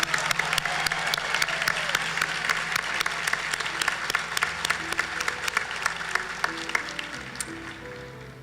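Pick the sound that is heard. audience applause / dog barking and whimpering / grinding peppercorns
audience applause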